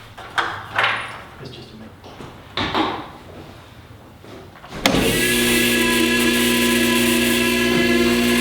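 Voices and scattered clunks in a garage, then a loud, steady mechanical motor hum starts as a Twin Busch hydraulic car lift rises, continuing evenly to the end.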